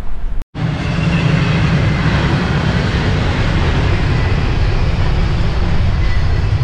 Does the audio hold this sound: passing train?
yes